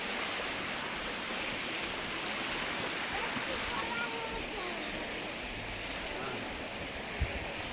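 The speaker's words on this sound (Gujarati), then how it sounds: "ગોમતી નદીનું પાણી અહીંયા આવી રહ્યું છે" Water of the Gomati river flowing near a Mahadev temple, a steady broadband rush of moving water with a faint airy wash, continuous and fairly even throughout, without talk.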